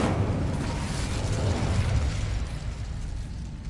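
The Incendio fire spell is cast in a Harry Potter video game, releasing a loud, close fiery whoosh with a rumbling burst that fades slightly over a few seconds, with no talking.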